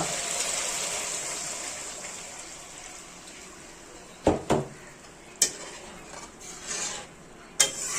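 A small splash of water goes into fried mustard paste in a pan for a Bengali hilsa curry, giving a steady sizzling hiss with a few sharp utensil clinks against the pan.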